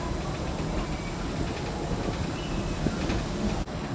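Disneyland Railroad train rolling along its track, a continuous close rumble and rattle with faint clicking from the cars, steady and loud throughout.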